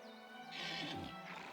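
A horse in Oblivion Remaster whinnies once, a faint, drawn-out neigh rising and falling over quiet background ambience.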